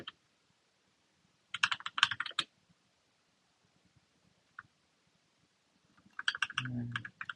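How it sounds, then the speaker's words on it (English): Short bursts of computer keyboard typing, quick clustered keystrokes near the start and again near the end, with a single stray tap between in an otherwise quiet room. "Let me just type it out again."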